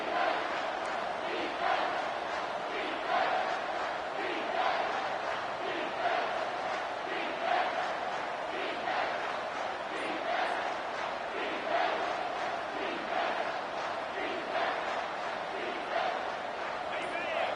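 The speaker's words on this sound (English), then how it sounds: "with this place rocking, the crowd forces a false start" In an American football video game, a stadium crowd roars in a sustained wall of cheering with rhythmic rising swells, while a commentator's voice talks over it.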